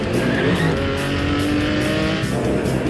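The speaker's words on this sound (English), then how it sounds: "High-performance sports cars vie for position at the British GT Championship." High-performance sports cars race at the British GT Championship, their engines a dense, continuous roar at close range with no pause across the stretch.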